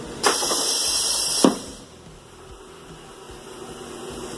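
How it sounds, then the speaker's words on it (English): Aircraft engine thrust reverser deploying in the rain, a loud steady hiss with a sharp onset and a second thump about a second later, then dropping to a softer continuous hiss. "the actuating arms up in and out to deploy and retract the reverse thrust"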